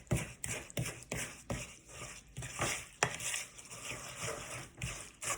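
Vegan oatmeal cookie batter, a watery mixture, stirred vigorously in a bowl, with repeated scraping and sloshing strokes in an uneven rhythm, close and moderately loud.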